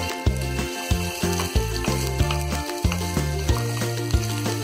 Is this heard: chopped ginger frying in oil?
yes